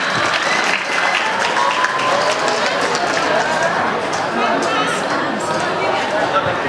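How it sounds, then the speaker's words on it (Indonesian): Crowd applauding at a high school fair opening event, dense loud clapping mixed with cheering and chatter that stays strong and unbroken throughout. "Tepuk tangan untuk kita semua."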